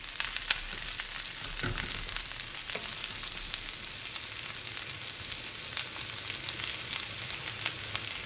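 Yellow onions sautéing in a pan for ginisang upo with sardines, a steady close sizzle with soft crackle and occasional stirring clinks, no talking.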